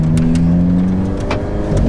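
Alfa Romeo 4C engine revving hard as the car pulls away from a start in first gear, a loud, close, steady mid-pitched drone rising slightly over two seconds with no talk.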